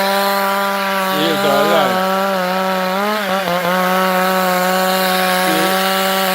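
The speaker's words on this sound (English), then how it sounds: "The ears are alive with the sound of chainsaw." A chainsaw cuts wood during farm land clearing, its engine a loud, steady drone that bogs and bends in pitch as it bites into the timber, with a brief spoken phrase over it.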